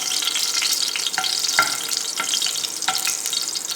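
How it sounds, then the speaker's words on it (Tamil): Garlic cloves fry in hot oil with a little butter, a bright, dense sizzle close up, punctuated by a few crisp scraping clicks from stirring, loud and continuous over a few seconds without any voice. "இப்போ அதில் கொஞ்சம் பூண்டு போட போகிறோம்."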